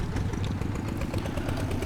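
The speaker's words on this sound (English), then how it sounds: "Let's move the tractor. The old antique tractor." Steady low chugging idle of an old antique tractor engine in the farming game Professional Farmer 2014, rough and continuous with a faint clattery edge, heard alone.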